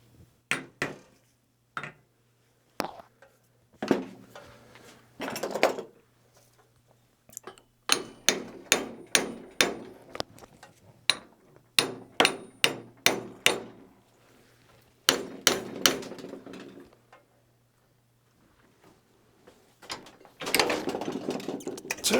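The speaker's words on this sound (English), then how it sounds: "Give it a little smack." Metal hammer strikes on a part of a 1-inch scale gas mechanical locomotive held in a vise, in bursts of sharp ringing smacks, some quick rapid runs and some spaced apart, close and clear with pauses between.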